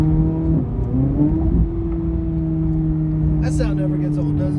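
Tuned 2024 Corvette C8 Z06 engine humming steadily with strong low harmonics, its pitch shifting as the car pulls away, loud and close, with a brief burst of higher-pitched noise near the end.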